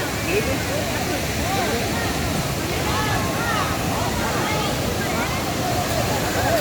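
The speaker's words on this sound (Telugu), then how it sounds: "చూడండి ఫ్రెండ్స్ ఎట్లా ఉన్నాయి వాటర్ కొల్లేరి వాటర్ ఫాల్స్" Rushing water at Kolleru waterfalls in Chittoor, Andhra Pradesh, makes a constant broadband roar throughout, loud and close, with a muffled voice faintly under it.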